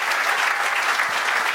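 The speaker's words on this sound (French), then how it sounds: "On peut les applaudir tous les trois évidemment." An audience applauds sponsors at an evening tech-industry gathering on stage, producing a dense, steady wash of many hands clapping that fills the whole moment at even loudness.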